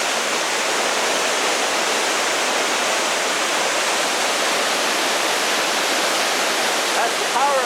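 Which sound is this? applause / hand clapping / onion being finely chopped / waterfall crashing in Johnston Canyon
waterfall crashing in Johnston Canyon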